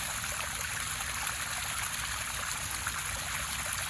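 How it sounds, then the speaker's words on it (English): Backwash water from a pool filter pours out in a steady, unbroken rushing flow, fairly faint and constant, like a hose stream spilling onto the ground, with no talking. "That's all the bad stuff coming out on the backwash."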